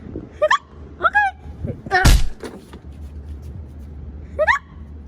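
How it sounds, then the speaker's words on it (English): Short squeaky hiccup-like yelps repeat in separate bursts, with a sharp loud thump partway through and low rumbling underneath. "prepare to get those hiccups away"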